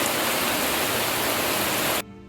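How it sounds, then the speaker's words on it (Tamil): Floodwater rushes loudly during heavy rain in a broadband, steady roar that sounds close and continuous, then drops abruptly near the end to a quieter background. "இதெல்லாமே பார்த்தீங்கன்னா எல்லாமே அணைக்கட்டுகளுக்கெல்லாம் பாஞ்சு ஓடுற வெள்ளங்கள்"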